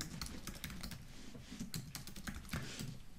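Someone types a new blog article on a computer keyboard, a quiet, close patter of quick irregular key clicks with no talk.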